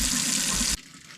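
Water runs steadily from a tap into a blocked kitchen drain, a loud, dense rush that cuts off abruptly partway through, leaving a faint residual trickle.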